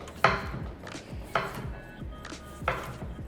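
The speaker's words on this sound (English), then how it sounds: "And I'll just chop those up really quick." Cucumber, red onion and cherry tomatoes being chopped on a board, three distinct knife strikes spaced about a second apart, each a crisp close thud followed by faint rustling.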